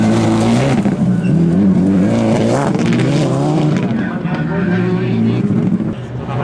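A Subaru Impreza rally car tears through a stage at the Barbórka Rally, its engine roaring loud and close with gear-change dips and rising revs, while a commentator talks over it.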